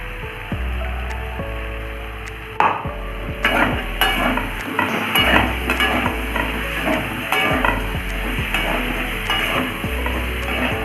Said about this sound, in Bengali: এখানে আদা লঙ্কা টমেটো পেস্ট বানিয়ে রেখেছিলাম সেটা দিয়ে দিলাম হালকা আছে একটু করে কষানো হোক